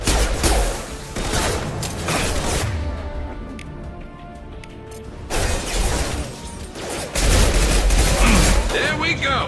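Bursts of heavy weapon fire and booming impacts in a Mass Effect firefight on Omega, an impact shot round among them, with loud volleys at the start and end and quieter mechanical rumble between.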